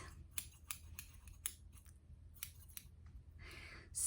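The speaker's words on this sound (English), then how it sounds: "the hair cutting scissors." Hair-cutting scissors snip through hair close by in a series of crisp, irregular cuts, with quiet pauses between them and no talking.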